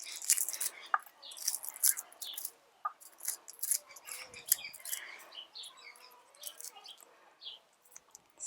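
Scissors snipping rotten parts off a potted succulent, a string of small crisp clicks and cuts at close range, with a little soft rustling and some quiet talking.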